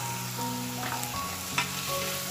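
Tomatoes fry with onions and ginger garlic paste for a goat head curry, giving a steady, close sizzle with light stirring scrapes throughout and no talk.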